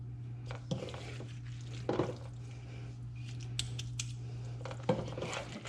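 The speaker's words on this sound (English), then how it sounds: "I'm just scooping the pie filling into our pie" Spoon scooping pork pie filling into a pie crust, soft wet squishes and a few light clinks of the spoon against the dish, heard close over a steady low electrical hum.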